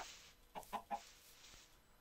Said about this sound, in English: there's lots of chickens